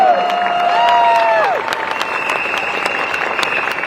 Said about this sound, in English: Give them another big round of applause, all our new candidates